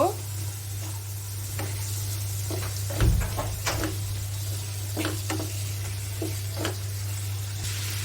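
Potatoes stirred into fried salted hilsa in a pan, with intermittent scraping and clattering strokes over a steady sizzle and a low constant hum.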